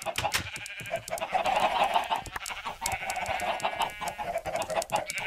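Chickens in the video game Minecraft cluck in short, repeated bursts at close range, several calls overlapping in an uneven rhythm against a faint background.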